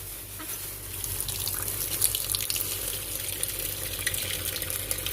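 Tap water runs steadily into a sink while raw chicken wings are rinsed for a garlic barbecue dish, a continuous close splashing hiss with faint trickles and drips and no talking.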